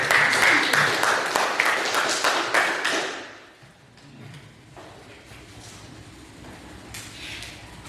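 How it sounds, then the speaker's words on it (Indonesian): Classroom applause from students, a few seconds of brisk, fairly loud clapping that quickly dies away into quiet room noise with faint movement. "tepuk tangan untuk Mona yang sudah memberikan"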